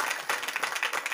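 An audience claps in a brief, dense burst of applause.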